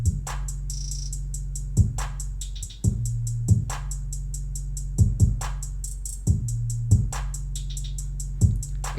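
Programmed beat drums without rim shots play alone: a deep 808 bass line under steady, rapid hi-hat ticks and periodic punchy kicks and snares in a loud, close loop.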